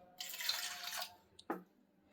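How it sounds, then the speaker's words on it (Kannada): Water poured from a cup onto chana and toor dal, a short splashing pour of about a second followed by a brief second splash, close and fairly quiet. "2 ಕಪ್ಪು ಅದೇ ಕಪ್ನಲ್ಲೇ ನೀರು ಹಾಕೋತಾ ಇದ್ದೀನಿ"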